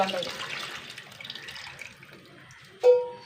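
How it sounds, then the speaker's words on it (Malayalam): Tamarind water is poured into a simmering Kerala curry as a soft, quiet trickle of liquid. It ends in a sharper splash near the end. "പുളിവെള്ളം ഒഴിച്ച് കൊടുക്കാം"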